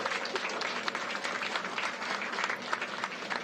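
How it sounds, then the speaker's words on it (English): A mission control room crowd applauding during the Hayabusa2 capsule reentry operation, steady mid-distance clapping from many people that continues evenly throughout, fairly soft overall. "What's this applause?"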